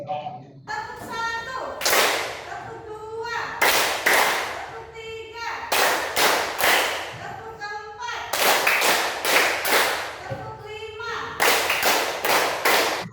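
A high school math class claps out counted rhythm patterns in unison, with sharp grouped bursts of two, three, four and five claps separated by short pauses, while a teacher's voice leads and counts between the groups.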